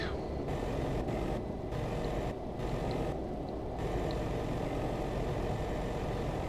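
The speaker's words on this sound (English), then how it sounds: "I normally can't hear the engine brake." A loud, steady low engine rumble with a deep droning growl, heavy and continuous throughout, from a truck's engine brake in Euro Truck Simulator.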